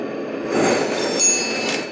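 A locomotive-hauled train rolls past at Ashland, Virginia, as a steady rumbling wash with faint metallic squeal and clinking tones over a brief swell.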